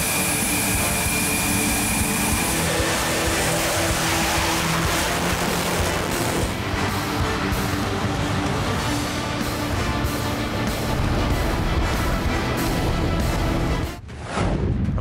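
A Rafale fighter jet flies past with a loud, continuous engine roar that swells and shifts, then cuts off abruptly near the end.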